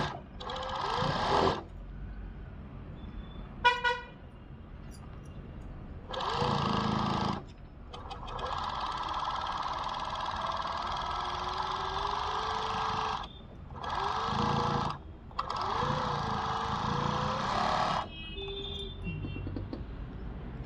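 Sewing machine stitching a garment collar runs in several loud bursts of steady whirring, separated by short pauses, with a brief clicking sound between the first two runs.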